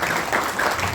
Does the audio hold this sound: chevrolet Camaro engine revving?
no